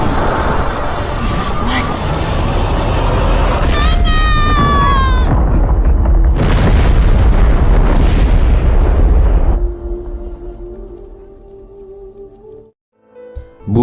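A huge explosion from a self-destructing flying figure in an animated monster battle, a long roaring blast with rumbling debris and whooshing, then fading into quieter sustained tones.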